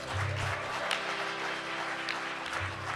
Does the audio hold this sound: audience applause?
yes